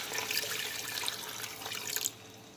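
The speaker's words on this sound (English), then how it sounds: "Then we're going to add a cup of water now to it." Water poured from a cup into a pot of rice while cooking Jamaican callaloo rice, a steady splashing pour lasting about two seconds and then stopping abruptly, close by with no talking.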